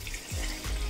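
Coconut milk and water pour into a pot for chicken biryani, a close, steady splashing gush that keeps flowing for the whole second with small gurgling surges.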